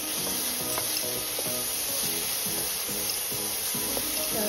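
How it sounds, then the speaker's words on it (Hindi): Onions frying in a hot pan with a dense, constant sizzle and crackle, close and fairly loud, with faint rhythmic stirring underneath and no talking. "प्याज को भी 1 से 2 मिनट तक भूनेंगे।"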